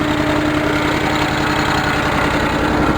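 A Cub Cadet 1650 four-wheel-drive garden tractor engine runs steadily through a homemade muffler exhaust, a continuous close, even idle throb with a faint knocking pulse and no variation.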